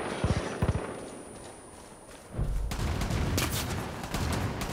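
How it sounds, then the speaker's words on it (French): Gunfire in the video game Rust comes as a few sharp early shots, then a dense, sustained burst of rapid fire and impacts that fills the rest, loud and close. "Ça tire, ça tire, ça tire."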